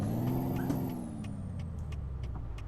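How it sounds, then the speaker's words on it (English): Freightliner Cascadia truck in American Truck Simulator, a falling engine whine settling while the parking air brake releases a few short hissing bursts, moderately quiet and without talk. "Different gear changing, parking brake sounds."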